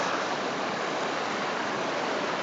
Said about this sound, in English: serene moment on the Klamath River.